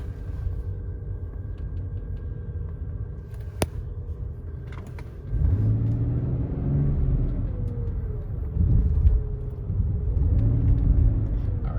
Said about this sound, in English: I don't know if it is increased road noise or if I'm hearing like the tires more